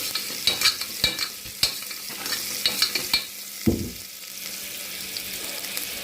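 Onions sizzling in a pan with sharp, repeated scraping and stirring strokes, then a quieter steady hiss; no voices.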